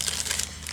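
A bag is crinkled and rustled by hand at close range, a short burst of crisp crackling with no talking.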